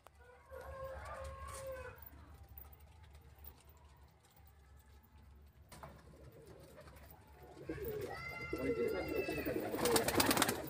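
Giribaz pigeons and their chicks in a loft coo and murmur close by, soft burbling calls at the start and a louder cluster of cooing and rustling toward the end, with faint voices in the background.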